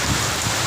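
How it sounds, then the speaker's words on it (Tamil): Rain falling outdoors, a steady dense hiss of drops that fills the short moment evenly, fairly close and with no voices over it. "மழை பெய்யுது, உள்ளே போ."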